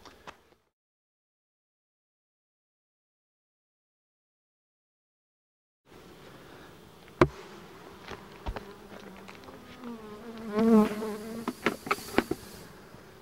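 Honey bees buzzing around beehive honey supers; after a long silence, a close, uneven buzz rises and falls with scattered bumps and knocks, growing louder near the end.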